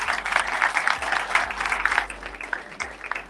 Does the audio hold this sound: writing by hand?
no